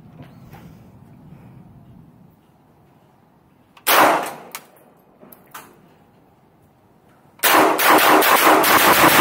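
An SLR-104UR rifle fires through a 30-round magazine outdoors: a few loud, sharp shots with echoing tails, then a dense, rapid string of shots at the end.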